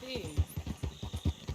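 Horse hooves clip-clop in steady rhythm in the Red Dead Redemption 2 video game, close and moderately loud, with someone talking over the hoofbeats.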